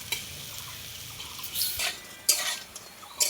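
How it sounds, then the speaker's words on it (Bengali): Lentil fritters frying in hot oil as they are turned over, giving a soft steady sizzle with a few brighter scraping clicks from the utensil against the pan. "আমি বড়াগুলো উল্টে দিচ্ছি খুব সুন্দর করে, দেখুন উল্টে পাল্টে খুব সুন্দর করে লাল লাল করে ভেজে নেব।"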